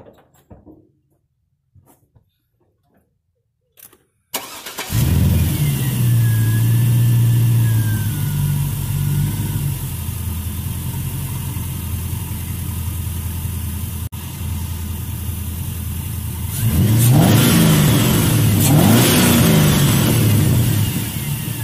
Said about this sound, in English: I'm going to fire it up and see if it'll start.